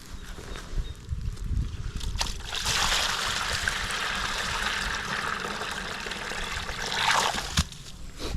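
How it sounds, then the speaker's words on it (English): Water gushes steadily out of a Laguna Pressure Flo pond filter during back flushing, a continuous rushing outflow with a few knocks and clatters near the hose. "keep on back flushing it till see clear water coming out of there"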